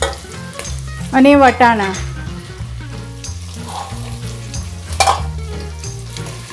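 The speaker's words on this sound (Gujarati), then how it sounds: "ફ્રેન્ડ્સ, આપણે બધા વેજીટેબલ્સ 4 થી 5 મિનિટ માટે બરાબર આ રીતે સાંતળી લેવાના છે" Potato, cauliflower, carrot, capsicum and peas sautéing in a pan for masala rice, a steady sizzle under a background of music with occasional stirring clatter, mostly covered by the music.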